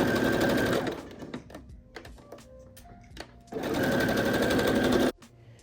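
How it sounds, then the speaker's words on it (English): A sewing machine stitches around the outer edge of a denim patchwork bucket hat brim. It runs in two loud, fast, whirring bursts with a pause between them, close up and without talk. "Sew around the outer edge, which is the wider circle."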